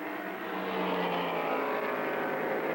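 Stock cars racing on an oval track, a dense, roaring engine drone from a pack of cars that swells and blurs steadily over a few seconds, with no voices.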